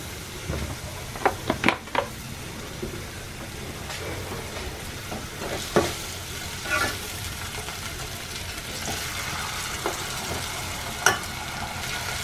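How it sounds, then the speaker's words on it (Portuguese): Garlic and onion frying in a little sunflower oil in a new pan, a soft continuous sizzle with a few sharp clicks and pops of the pan or utensil, close up with no talking. "aqui na panela eu coloquei o alho, a cebola e vou colocar um pouquinho de óleo de girassol"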